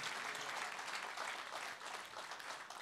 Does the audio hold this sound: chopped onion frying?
no